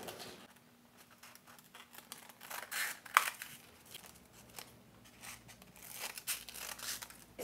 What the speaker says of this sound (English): So I'll go ahead and cut the strip approximately for what I think I might need.